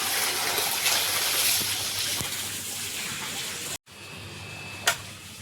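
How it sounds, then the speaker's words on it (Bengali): Tap water runs steadily for washing clothes and blankets, a broad close gush that stops abruptly near the end, followed by a quieter background and a single brief splash. "ফ্ল্যাঙ্কেট এগুলো ধোয়াধুয়ি হলে কিন্তু এইখান থেকে জল নিয়ে ধোয়াধুয়ি করি।"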